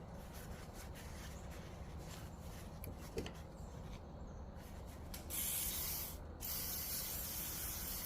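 WD-40 sprayed onto a rag in a quiet workshop, a few bursts of hissing aerosol with a brief pause between them, fairly close and alone.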